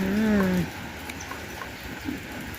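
Morning rain falls steadily, giving a soft, even patter and hiss throughout, with a brief tonal sound near the start.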